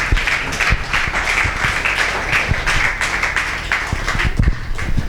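A church congregation claps together in a dense, continuous round of applause, fairly loud and close with rapid overlapping hand claps and no pauses.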